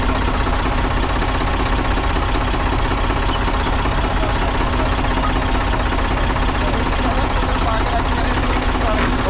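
A tractor engine idles close by with a loud, continuous rumbling throb and rattling vibration that holds steady throughout without a break.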